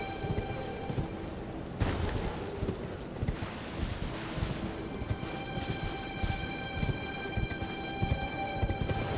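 Horse hooves gallop in a steady, rapid clip-clop rhythm in the Elden Ring video game, close and fairly loud, with a sharp impact near the start and no talk over it.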